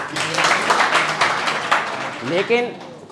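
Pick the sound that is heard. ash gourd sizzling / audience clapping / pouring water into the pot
audience clapping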